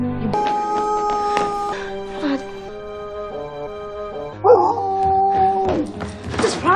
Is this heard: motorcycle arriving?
no